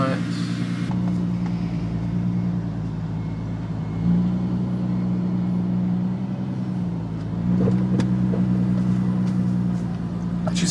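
A VW R32 engine hums steadily from inside the car, a low droning rumble that shifts pitch slightly as it accelerates, with no clear speech.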